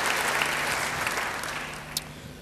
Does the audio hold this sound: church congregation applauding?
yes